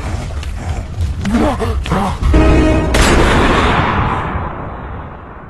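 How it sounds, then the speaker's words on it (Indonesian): Gunfire in an action film scene, a sharp loud shot followed by a booming, rolling echo that fades slowly, layered with a dramatic music score. "Pastor Carlos tetap saja tewas ditembak oleh El Diablo"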